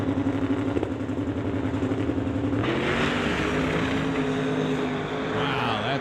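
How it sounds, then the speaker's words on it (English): A drag racing car spools up at the line and launches down the track, a loud continuous engine roar that rises and surges midway, heard from trackside. "we'll watch Rick get down the track here, spooling up after the pre-stage beam lights"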